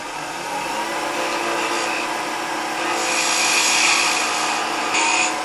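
Sandpaper works steadily over a small wooden holiday ornament, a continuous rasping rub that rises into a thin high squeal from vibration partway through.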